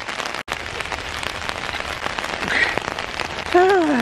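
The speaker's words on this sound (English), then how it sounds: "I actually like summer rainstorms." Summer rainstorm pattering steadily on a surface, a dense continuous hiss of drops heard from inside a car, with a brief dropout early on and a voice starting to sing near the end.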